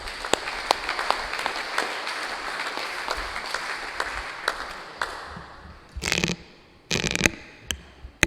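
Scattered applause inside a church, thin and intermittent at first with sparse individual claps, then a couple of louder bursts of clapping near the end.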